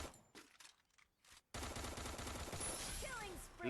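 Dense, continuous gunfire in the mobile shooter Free Fire, breaking out loud after a quieter stretch of scattered shots and holding steady to the end, with faint game effects layered on top.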